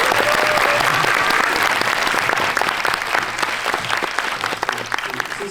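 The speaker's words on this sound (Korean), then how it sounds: "박수 한번 보여주실까요" A large audience at a film Q&A event applauds steadily for several seconds, the clapping loud and dense at first and thinning slightly toward the end.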